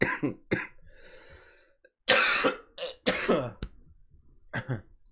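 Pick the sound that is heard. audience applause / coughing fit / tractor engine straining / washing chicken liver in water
coughing fit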